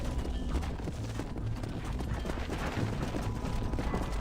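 Horse hooves clip-clop steadily in Red Dead Redemption, a Western video game, as the animals trot at a continuous, even rhythm. The sound is fairly loud and close, with busy hoofbeats filling the whole stretch and no voices.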